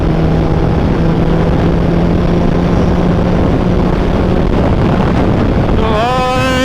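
Suzuki Hayabusa motorcycle cruising on a highway, a steady engine drone buried under loud, continuous wind rush. A brief higher whine rises near the end.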